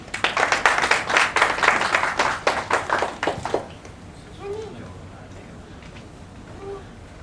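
Audience applause at an academic awards ceremony in Bangkok, a dense burst of clapping for about three and a half seconds that stops abruptly, leaving quiet room tone with a faint voice.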